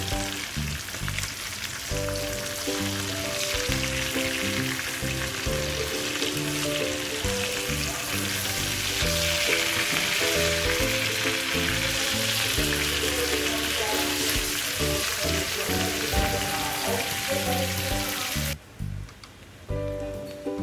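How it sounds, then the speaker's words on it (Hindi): Tandoori fish sizzles and fries in a pan, a continuous crackling hiss held at an even level for a long stretch before it cuts off near the end, with no one speaking. "ये फिश हमारी अच्छे से फ्राई हो गई है।"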